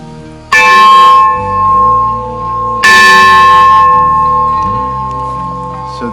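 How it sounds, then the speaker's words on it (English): A steam-powered locomotive alarm bell is struck twice, each loud clang ringing out and slowly decaying. "is the alarm bell that went on top of the locomotive"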